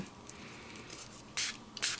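Coloured pink ink sprayed from a spray bottle onto an art journal page, two short, sharp hissing bursts over a faint background.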